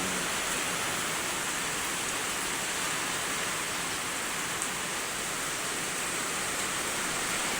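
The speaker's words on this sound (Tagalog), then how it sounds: "Sobrang lakas ng ulan." Very heavy rain falls in a steady, dense roar of drops that hisses evenly and without a break for nearly eight seconds, loud and close with no voices.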